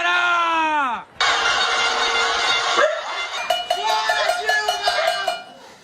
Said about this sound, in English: People were banging their pots, honking their horns.